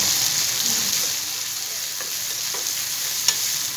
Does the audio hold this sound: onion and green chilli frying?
yes